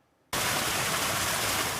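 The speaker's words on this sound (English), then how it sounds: "Water is rushing out of the mountains at a record rate." Mountain snowmelt river at Mount Rainier during a record heat wave, roaring in a dense, continuous broadband rush that bursts in abruptly after a brief quiet moment and holds steady and loud.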